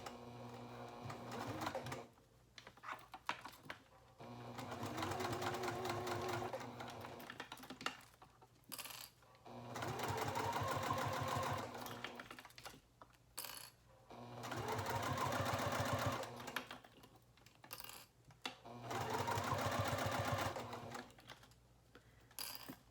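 A sewing machine stitches a coin purse card holder at 3.5 stitch length, with four long whirring bursts of rapid needle chatter separated by short pauses and faint clicks.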